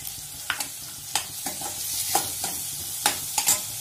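Onion frying with salt in a pan for a cabbage masala, giving a steady low sizzle with several distinct scrapes and taps as it is stirred, near and fairly clear.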